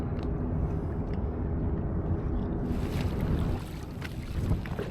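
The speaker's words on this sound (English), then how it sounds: "there is tons of boat traffic" Boat traffic on New York's East River, heard as a steady broadband wash of engines and water with heavy wind rumble across the microphone, softening slightly toward the end; no talking.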